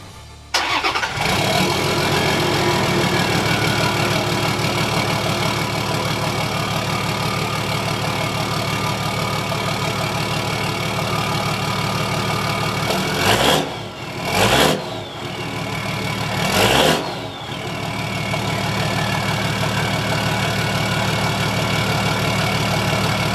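Toyota Land Cruiser 100 series fitted with a Legendex exhaust and Berserker pipe, starting up then idling steadily with a deep, even rumble close by, broken by a few brief gaps and blips near the end.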